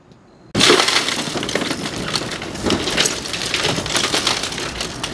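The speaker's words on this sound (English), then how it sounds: "He'll break the uh, first window." Firefighter breaking a car window during a vehicle extrication demo: a sudden loud shattering crash after brief quiet, followed by several seconds of crunching, tinkling glass fragments.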